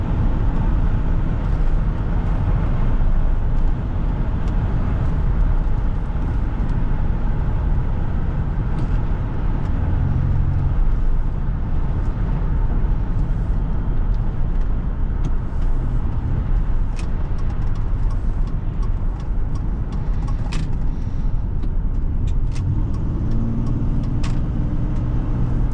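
Cabin drone of a 2002 Nissan Quest GLE minivan cruising at highway speed, a steady low rumble of engine, tires and wind with little change over the whole stretch.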